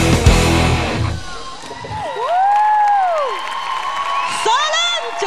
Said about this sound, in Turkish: Alkışlar Metcap için